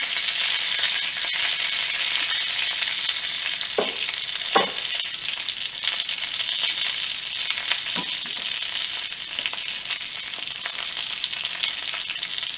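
An egg frying in a pan alongside spinach for keto breakfast roll-ups gives a steady, close sizzle throughout, with a few brief clinks or stirring scrapes standing out.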